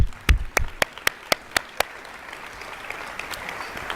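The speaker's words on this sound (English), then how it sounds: "Let's give our instructors a most deserving round of applause." Applause from the audience at a nursing pinning ceremony in 2023: a few sharp, close individual claps at first, then a broad wash of clapping from the crowd that carries on evenly for several seconds.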